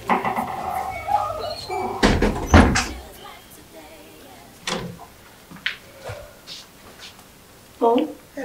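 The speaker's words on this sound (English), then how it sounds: "Isabella, Ma, please get the door" A front door opens in a home, with a clunk and rattle of the latch among short knocks and bumps, while people talk nearby.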